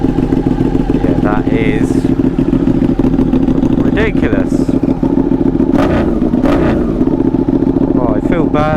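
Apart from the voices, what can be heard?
sport motorcycle engine idling and revving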